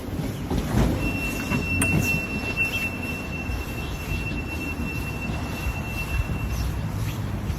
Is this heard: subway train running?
yes